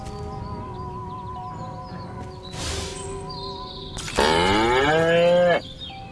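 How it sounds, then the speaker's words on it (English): A cow lets out a single loud, drawn-out moo lasting about a second, preceded by fainter background sounds including faint bird chirps. "Again with the moo?"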